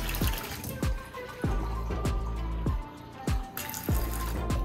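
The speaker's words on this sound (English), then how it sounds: "Let's go ahead and just dump the RO water" RO water is dumped out of a glass in several quick pours, each a short splash and trickle, repeating at roughly regular intervals over a low background hum.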